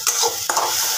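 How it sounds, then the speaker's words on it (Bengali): Spice masala fries in hot oil in a pan while being stirred, with a bright continuous sizzle broken by two quick scraping strokes of the spoon, loud and close. "ভালো করে খানিকটা সময় নিয়ে কষিয়ে নেব।"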